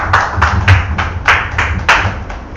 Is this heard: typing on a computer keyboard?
no